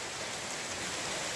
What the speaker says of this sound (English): It's raining again in central New York.